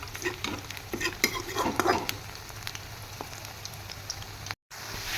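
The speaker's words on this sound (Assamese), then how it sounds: "তেলত দি দিয়া হৈছে পকৰিখিনি এতিয়া" Banana flower pakora fry in hot oil with a crackling sizzle, busiest and loudest in the first two seconds, then settling into a softer steady hiss with a brief gap near the end; no one speaks.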